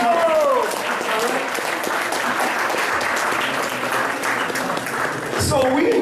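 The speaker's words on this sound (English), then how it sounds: "Let's give him a round of applause for being a great father." Audience applause at a community talk, continuous clapping from a crowd that holds steady for several seconds, with a brief voice at the start and end.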